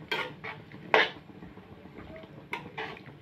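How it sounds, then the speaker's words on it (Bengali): Carrot and bottle gourd pieces being stirred in a metal pot for South Indian sambar, a few close scraping clinks of the spoon against the pot with soft rustling between them, no talking. "ভালো করে নাড়াচাড়া করে নিচ্ছি।"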